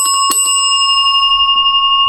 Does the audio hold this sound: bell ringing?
yes